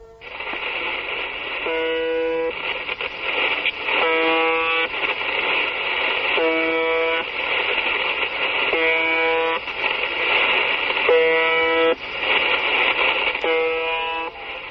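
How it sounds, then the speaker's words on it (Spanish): A harsh, droning buzzer from the UVB-76 shortwave radio station repeats in regular bursts of about a second, over a constant hiss of shortwave static. "Pues podría ser el claxon de un camión, la sirena de un barco, pero no, se llama o se llamaba UVB76."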